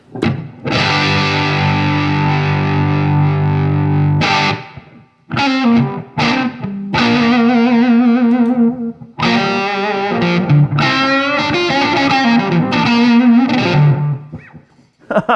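A Telecaster's bridge pickup runs through a Wren and Cuff White Elk fuzz pedal, a loud, thick distorted guitar opening with a long sustained chord, then choppy riffs and bent single notes separated by brief silences.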